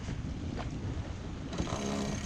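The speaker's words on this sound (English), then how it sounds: "Wind has kicked in a little bit, we have 10 knots." Wind of about ten knots rushes steadily past a Hallberg-Rassy 54 sailboat under sail off Long Island, with a broad, airy roar that buffets the microphone and soft water wash beneath.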